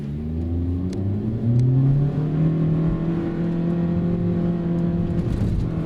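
A 2015 Nissan Juke 1.6 running on LPG with a Landi Renzo gas system accelerates through the gears, its engine note rising steadily in pitch, shifting, then climbing again, heard from inside the cabin.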